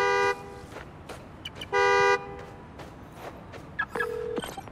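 A car horn in the game Spider-Man: Miles Morales, set off with a key fob, gives a few short honks at mid distance, separated by gaps of quiet street ambience.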